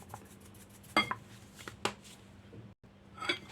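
Pork marinade with honey and pepper is stirred in a bowl, giving a few distinct clinks and scrapes of utensil against the bowl, separated by quiet gaps, close and moderately loud.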